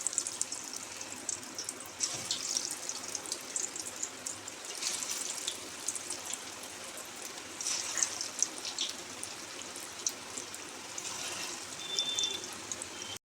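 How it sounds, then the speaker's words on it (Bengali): Masoor dal onion fritters are lowered into hot refined oil in a pan on a gas stove, giving a soft, continuous sizzling hiss with small crackles throughout and no talking. "এবার বড়াগুলো আস্তে আস্তে ছেড়ে দেব"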